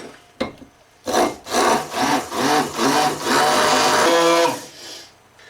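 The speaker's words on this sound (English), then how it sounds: "Going to want one whole egg, in with a stick blender." A handheld stick blender whirs in several short bursts through egg and cider vinegar making mayonnaise, then runs in one longer continuous pulse before stopping, close and loud, with a couple of knocks at the start.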